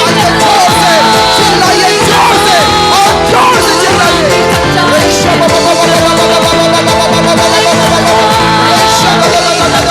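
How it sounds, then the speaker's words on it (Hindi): A church congregation at a Sunday service in Karim Nagar shouts hallelujah loudly, a dense, continuous roar of many voices blended with music, sustained and loud throughout. "सारे लोग चिल्लाएंगे जोर से हालेलुया हालेलुया जोर से चिल्लाइए"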